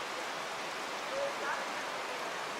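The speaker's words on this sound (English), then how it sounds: "they say it's the largest, the tallest waterfall in North America" A tall waterfall plunges down sheer granite cliffs in Yosemite National Park, heard as a steady, even rushing roar of falling water that fills the air without pause.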